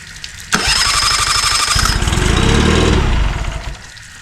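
Small cheap outboard motor with no oil, sprayed with starting fluid, cranks over with a sharp jolt and fires into a rough, loud, uneven run for about three seconds before dying away.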